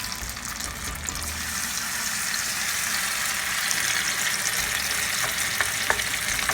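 Potato pancake batter frying in hot oil in a skillet, a loud, dense, continuous sizzle with faint crackles near the end.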